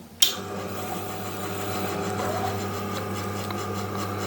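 A deli meat slicer cuts wafer-thin slices with a steady motor hum and a soft, continuous rubbing whir. It starts with a brief click and holds close and even throughout.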